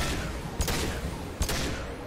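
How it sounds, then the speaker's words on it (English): Heavy pistol fire in the Mass Effect video game: two punchy shots about a second apart cut through dense, continuous battle noise. "we're swapping over to the heavy pistol now"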